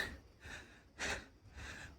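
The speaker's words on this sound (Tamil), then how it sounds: "இப்போவே மூச்சு வாங்குது" Heavy, labored breaths come in three audible gasps about half a second apart from someone climbing the hill path up to Marudhamalai Murugan temple, close and alone without talk.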